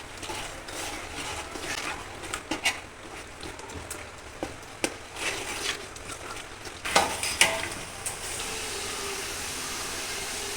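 A spoon stirs ground tamarind paste through green chilli pickle in a pot, with scraping clinks and wet churning over a steady sizzling hiss, scattered knocks growing louder toward the end.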